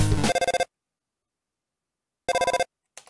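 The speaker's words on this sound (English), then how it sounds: "Oh, a phone call." A phone in the video game Undertale rings in short, bright chiptune bursts, two rapid pulsing trills separated by silence, then a faint brief blip, with no voices.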